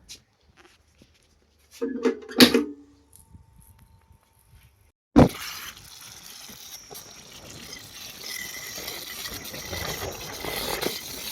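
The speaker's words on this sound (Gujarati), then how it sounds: "તો જુઓ પાણી આવવા મળ્યું છે અને ફુવારા આગળ જો પ્રેશર થાય એટલે એના રીતે હલવા મળશે" Near silence with a brief clatter, then water abruptly bursts from farm sprinklers in a cabbage field and keeps up a steady, rushing hiss of spray to the end.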